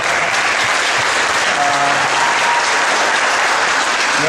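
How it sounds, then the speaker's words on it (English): Loud, sustained applause from a large crowd at a Golden State Warriors press event, dense clapping that continues steadily throughout. "Is that worth a round of applause?"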